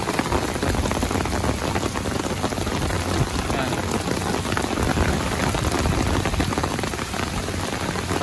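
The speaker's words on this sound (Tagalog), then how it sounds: "lumakas yung ulan" Heavy rain from Typhoon Carina pours steadily in a park in flooded Binondo, Manila, a dense, constant roar of drops hitting surfaces, with faint voices in the background.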